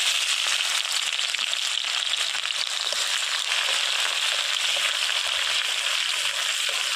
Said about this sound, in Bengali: তেল গরম হয়ে গিয়েছে, পেঁয়াজ দিয়ে দেব।